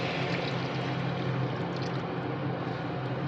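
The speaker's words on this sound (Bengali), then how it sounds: "গরম জল দিয়ে দিচ্ছি।" Hot water pours steadily into a cooking pan holding pointed gourd and prawns, a soft continuous splashing stream that lasts a few seconds with no talking.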